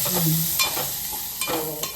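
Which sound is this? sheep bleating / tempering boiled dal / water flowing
tempering boiled dal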